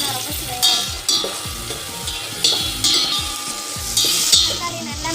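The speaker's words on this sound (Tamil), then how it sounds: "வெங்காயம் நல்லா வதக்கிட்டு இப்போ தக்காளி சேர்த்துக்கலாம்" Onions and tomatoes sauté in a pan for a vegetable kulambu, sizzling steadily while a spoon scrapes and clinks against the pan in repeated stirring strokes.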